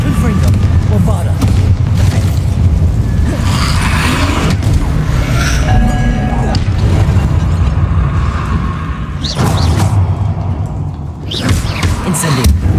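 Booming blasts from spells cast in Hogwarts Legacy, including the Bombarda explosion spell, with repeated loud thuds and rumbling bursts over dense, continuous game noise.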